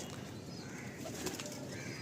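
A young pigeon in a home loft gives faint, low cooing amid quiet room noise, with a brief flutter of wings.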